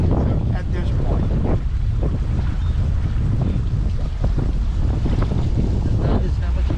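Strong wind of about 17 to 20 knots roars steadily against the microphone on a boat out on the water, a constant loud buffeting rush with water wash beneath it.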